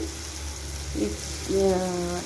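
Ginger chutney ingredients frying in a pan, a steady close sizzle, with a brief voiced murmur and a longer tonal sound rising over it near the end.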